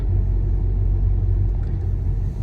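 Car traffic on a road in the morning, heard as a steady low rumble of passing engines, continuous and fairly loud with no voices.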